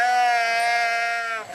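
A single long sheep bleat, close and loud, wavers steadily during hand milking before trailing off.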